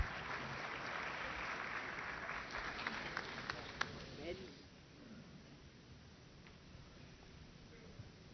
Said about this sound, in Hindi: जोरदार तालियां हो जाएं जनाब गुलाम नबी आज़ाद